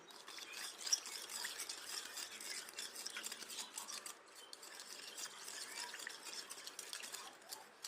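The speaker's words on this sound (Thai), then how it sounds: "คนให้เข้ากันละลายนะ" A spoon stirs sugar into a mango pudding mixture, giving soft, steady scraping and light clinks against the bowl, quiet and close, with no talking.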